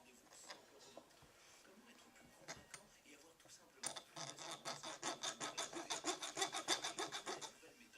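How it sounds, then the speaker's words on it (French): A metal file works on a part from a Peugeot 102 engine, first scattered scraping strokes, then a fast, even run of rasping strokes that grows louder and steadier toward the end, close up. "Ça va partir à la lime ça."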